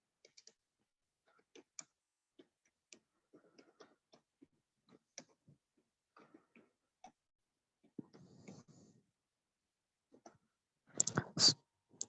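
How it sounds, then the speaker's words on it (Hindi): Typing on a computer keyboard: sparse, faint individual key clicks scattered unevenly, with a louder burst of clatter near the end and no talking. "एक मिनट में टाइप कर देता हूँ।"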